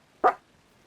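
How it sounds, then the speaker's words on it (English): A single sharp dog bark, close and fairly loud, in an otherwise quiet room. "She's still barking."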